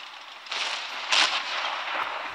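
Tank cannon fire in the mobile game World of Tanks Blitz, with a Dicker Max in play: a couple of sharp booming shots over continuous battle noise, no talk.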